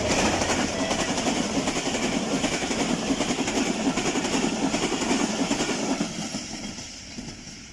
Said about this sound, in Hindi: अब वक्त हुआ है 150 डाउन मेहरान एक्सप्रेस का